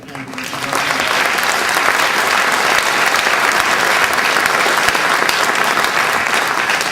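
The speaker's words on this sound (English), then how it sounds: "let's have a round of applause for Eric and" An audience at the RightsCon opening ceremony breaks into loud, sustained applause, a dense wash of clapping that swells within the first second and holds steady for several seconds.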